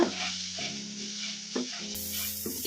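A spatula stirs a potato and fenugreek fry in a hot pan, soft sizzling with a few distinct scraping strokes, quiet and close with no talking.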